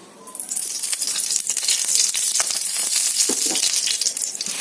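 Bread omelette frying in ghee gives a loud, close, crackling sizzle that swells just after the start and holds steady, with a few faint stirring clicks and no talking.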